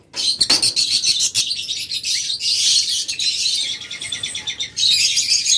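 Lovebirds in a dealer's cage chirp loudly and close, a dense flurry of shrill overlapping tweets that runs almost the whole time with brief gaps.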